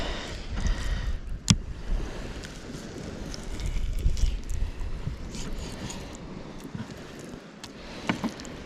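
Gusty wind at a campsite on a remote tropical island buffets the microphone in uneven gusts, a low rumbling roar rising and falling throughout, with a few sharp knocks breaking through.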